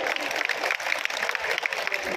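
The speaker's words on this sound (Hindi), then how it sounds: "थोड़ी सी तालियां बजाना चाहिए मेरे ख्याल से।" Audience applause at a speech, a steady dense patter of many hands clapping across the room, moderately loud and continuous with no voices over it.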